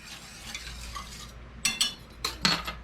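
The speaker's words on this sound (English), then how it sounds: "Stir it up a little bit." Whole cardamom pods being stirred in a pot, a few short scraping clinks of spoon against metal near the end, close and crisp, over a quiet background hiss.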